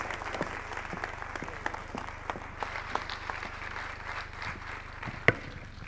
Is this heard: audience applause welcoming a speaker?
yes